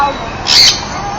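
A single loud, shrill sun conure parrot squawk bursts out briefly, close by, over a steady background hiss.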